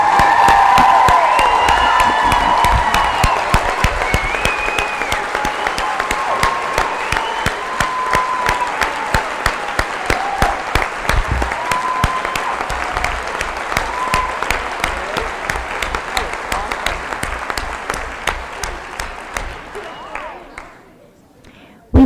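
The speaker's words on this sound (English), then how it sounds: "Please stand up so we can applaud you and welcome you." A room full of people at a Narcotics Anonymous meeting applauds to welcome newcomers, a loud, dense, sustained clapping for about twenty seconds with cheers and voices mixed in, tapering off near the end.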